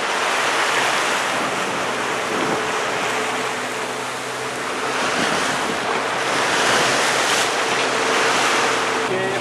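Sea waves churn in the Moskenes current off Lofoten, heard from a fishing boat as a constant loud wash of surf mixed with heavy wind buffeting the microphone.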